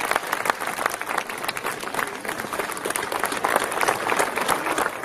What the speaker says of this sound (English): They certainly need a very big round of applause and a standing ovation